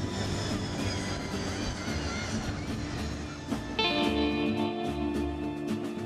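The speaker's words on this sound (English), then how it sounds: "The Buffalo Stampede was a famous ride and had its own signature sound." Buffalo Stampede theme park ride running with a loud, steady mechanical roar and rumble, a sustained tonal whine shifting pitch partway through, continuous and close.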